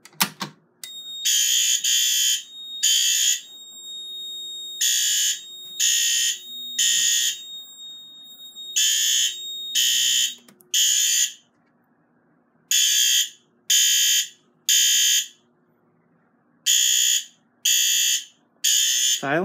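Fire alarm system sounding after a pull station is pulled during a building test, loud repeated electronic horn blasts in rhythmic groups separated by short gaps, with a faint steady tone underneath.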